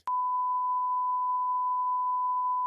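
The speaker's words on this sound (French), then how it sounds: "Le titre de ton secret, on va le biper au montage." A censorship bleep added in editing, one loud pure steady tone lasting nearly three seconds, starting and stopping abruptly, with nothing else audible.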